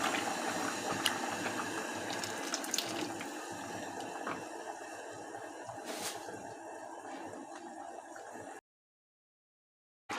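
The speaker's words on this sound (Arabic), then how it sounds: "بعد ما شوحت الرز هبتدي بقى ازوده بشوربه سخنه او ميه سخنه" Hot water streams steadily into a pot of sautéed rice cooked with chicken broth, a continuous close splashing and hissing pour that runs alone for about eight seconds before cutting to silence.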